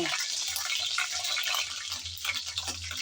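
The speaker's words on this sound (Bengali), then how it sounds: "গরম তেলে আমি মাছের মাথাটা দিয়ে দিলাম" A fish head sizzles in hot oil in a pan, a dense, bright crackling hiss that is steady and close with small pops throughout and no talking.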